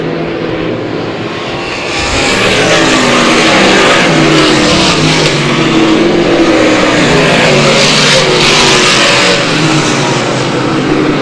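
Race cars at Airborne Speedway roar past in a loud, sustained pack, engines swelling as they accelerate along the oval with no talk.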